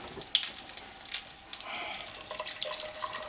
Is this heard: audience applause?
no